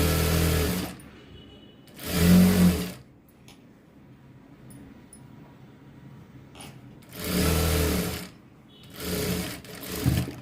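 A sewing machine stitches a blouse seam in two loud whirring bursts separated by quiet handling, close up with no talk.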